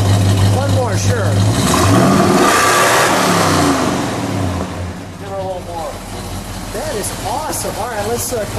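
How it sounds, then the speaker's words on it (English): A 1969 Dodge Super Bee A12 with a 440 engine revs up loudly, climbing and falling in one strong burst before settling back to a lower rumble, with people talking over and after it. "Give it one good rev, would you?"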